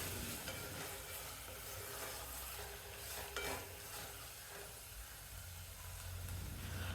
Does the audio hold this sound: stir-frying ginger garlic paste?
yes